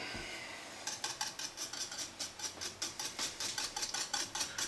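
A whisk beats a homemade apple butter mixture with cinnamon and allspice in a bowl, producing steady, rhythmic clinking strokes, quiet and close, with no talking.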